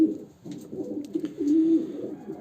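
Racing homing pigeons cooing in a loft nest-box system, close and soft with low throaty rolling coos rising and falling, no speech.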